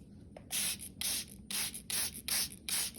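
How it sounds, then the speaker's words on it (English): Six quick hissing sprays from a spray bottle dampening a paper towel for germinating seeds, evenly spaced and fairly close, with short pauses between each burst. "I'm going to spray this one more time just to get it really damp"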